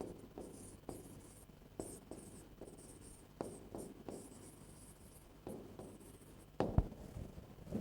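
Chalk or marker strokes on a board during a parsing lecture come as a series of soft scratching and tapping sounds in an irregular rhythm, close by and fairly quiet, with no talking.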